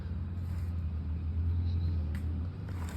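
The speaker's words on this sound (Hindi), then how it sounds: "पर अभी शायद एक गाड़ी दिख रही है आते हुए।" On a mountain road near Mussoorie during the monsoon, a car approaches with a low, fairly faint engine rumble that swells slightly as it nears, with soft background noise and no clear talking.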